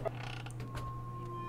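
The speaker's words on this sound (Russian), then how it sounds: "Дверь открывается." A door creaks slowly open in the video game The Witch's House, a quiet mechanical creaking with faint clicks over a steady low hum.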